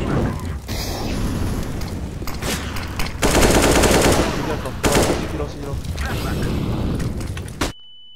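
Rapid automatic gunfire bursts from a Counter-Strike: Global Offensive competitive match, loud and near, rattling almost continuously for several seconds before cutting off abruptly.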